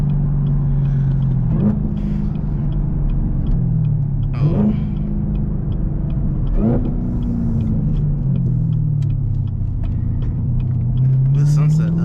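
Manual Camaro ZL1 driving at sunset, its engine a deep loud rumble from inside the car, rising and falling with each gear change and shift, while people talk over it.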